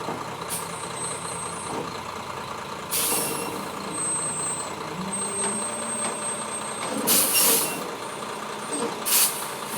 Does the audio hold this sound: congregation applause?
no